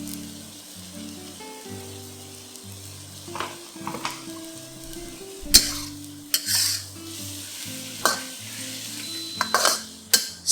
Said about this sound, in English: Stir fry this for a minute or 2